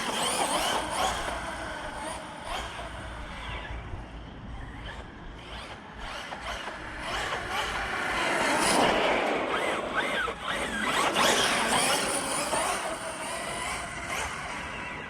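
An Arrma Outcast RC car fitted with a Ford 51 panel truck body, running with a buzzing electric motor whine that rises and falls in bursts, heard at moderate distance with outdoor background.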